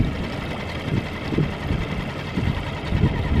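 A small yacht's engine idles on a UK mooring, a steady low chugging with soft irregular pulses, moderately close and with no voices.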